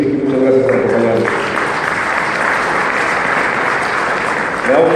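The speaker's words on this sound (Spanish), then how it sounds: "Damos por favor un fuerte aplauso a Enrique Cárdenas de la Fundación Espinosa" Enthusiastic applause from an audience fills the room, following a brief stretch of speech, then fades as a voice resumes.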